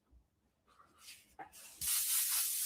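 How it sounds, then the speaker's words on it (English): An airbrush spraying gold paint starts with a few short test puffs, then bursts into a loud, steady hiss that continues to the end, close by and with no talk. "Just to test it out, I'll spray a little bit."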